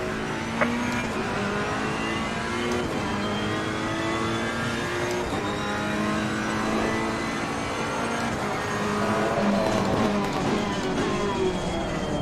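GT3 race cars at Misano in a sim racing game roar past one after another, a dense sustained layer of high revving engines with rising and falling pitch sweeps as they close in, loud and continuous throughout.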